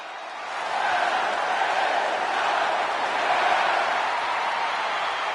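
A wrestling arena crowd in the WWE 2K26 video game cheers for L.A. Knight as a steady, loud roar that swells in after a brief quiet start and holds evenly throughout.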